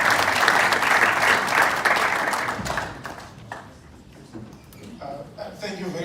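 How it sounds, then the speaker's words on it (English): A crowd at a Zimbabwe diaspora property showcase in the UK gives loud, dense applause that tapers off halfway through, after which a voice begins speaking over the fading claps. "If you could give him a round of applause"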